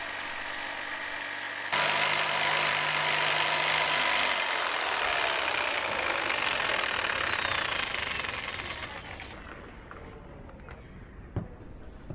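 A jigsaw with a laser guide cuts through a wood board with a loud, steady buzzing rasp that fades toward the end, leaving a brief quiet and a single knock.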